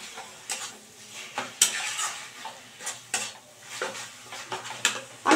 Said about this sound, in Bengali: আমি এটা খুব ভালো করে মেশাবো